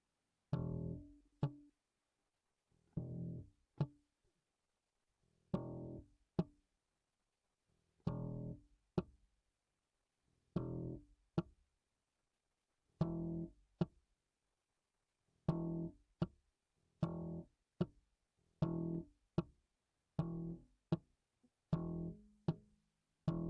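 Slap bass ghost notes: short, percussive clicking plucks in small repeated clusters separated by silences, fairly quiet and close, with no talking.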